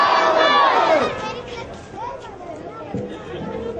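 A large crowd at a public meeting roars back in answer to a Nara-e-Takbir chant, loud and close, then fades into murmuring voices.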